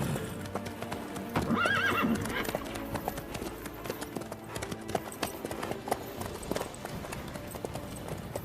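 A horse in The Witcher 3 gives a clear neigh early on, then its hooves clop in a steady, fairly quiet walking rhythm, with faint voices talking underneath.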